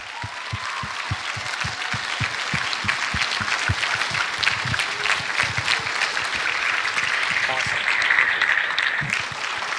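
Audience applause for keynote speaker Marsha Ivins, a steady sustained clapping from a hall crowd lasting the whole stretch, fairly loud and even with a slight swell near the end.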